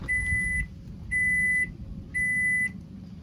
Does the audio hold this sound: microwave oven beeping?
yes